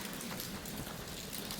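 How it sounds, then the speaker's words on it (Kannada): Steady rain falling outdoors at night with wind, a dense even hiss of drops that stays constant throughout, fairly soft and unbroken, with no voices. "ಮೈ ಗಾಡ್, ಮಳೆ ಬರೋ ಥರ ಇದೆ. ಏನಿದು ಗಾಳಿ ಗಾಳಿ ಗಾಳಿ."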